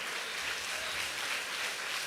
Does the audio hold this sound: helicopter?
no